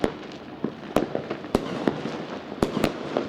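New Year's Eve fireworks burst over Cuenca, Ecuador, a handful of sharp cracks and pops scattered irregularly over a low background rumble of distant explosions.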